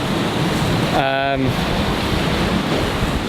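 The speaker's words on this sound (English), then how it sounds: "I was wary of these waves because they're awfully close" Ocean waves break close by on the shore, a loud continuous roar of surf with wind buffeting the microphone, and a short voice-like tone briefly rises above it.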